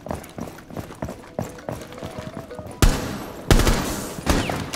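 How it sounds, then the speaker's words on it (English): Gunfire in the tactical shooter Rainbow Six Siege, with scattered shots and rattling impacts under quiet chatter, then two loud sharp bursts of fire close by near the end. "Yeah, they're shooting through this."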